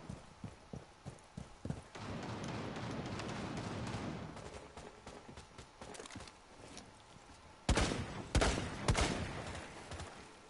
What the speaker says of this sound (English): Why are they shooting like mad people?